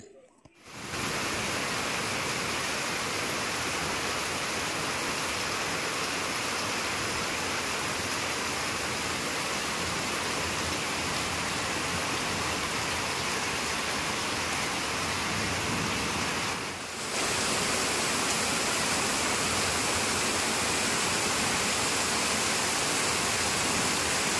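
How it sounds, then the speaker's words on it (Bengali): Heavy rain pours down outside a house at the start of the monsoon, a steady, dense roar that stays loud and unbroken, with only a brief dip partway through. "বাইরে হচ্ছে প্রচণ্ড বৃষ্টি"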